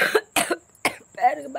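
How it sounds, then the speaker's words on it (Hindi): A person coughs several times in short, separate bursts, close and fairly quiet, with brief pauses between them. "खांसी हो गई है।"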